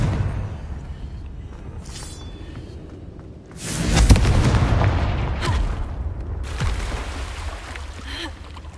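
Confringo explosive spell blast in the video game Hogwarts Legacy: a sudden booming impact bursts in mid-clip over a steady low rumble, then rolls into crackling, echoing debris, loud and near.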